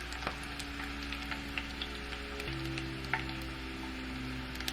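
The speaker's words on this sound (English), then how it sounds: "that way with the frying, the oil has less places to splash and hurt me." Food fries in a pan of spattering oil, giving a steady close sizzle with scattered sharp pops over a low kitchen hum, and no one speaks.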